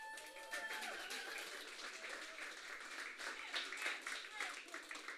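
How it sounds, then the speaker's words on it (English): Audience applause at a startup demo night, a steady wash of clapping from a crowd with voices chatting and calling out over it throughout. "so let's give him a round of applause."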